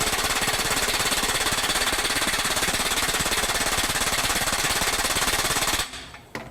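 RYOBI HP mid-torque impact wrench hammering in mode 1 at a 150 foot-pound setting, a loud rapid continuous rattling burst lasting about six seconds before stopping abruptly, followed by a couple of faint clicks.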